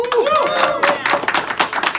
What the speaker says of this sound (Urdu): ان کے دفتر میں ہونے والی اس میٹنگ میں اسلاموفوبیا کے خلاف نعرے لگ رہے ہیں